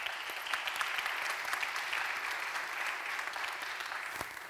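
Audience at an afternoon conference plenary breaks into steady, sustained applause that fills the room evenly for several seconds without pause.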